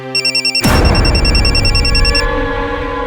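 A telephone rings in short repeated electronic pulses, then a loud burst of dramatic music or a crash takes over with the tone continuing beneath before fading, set in a televised crime drama.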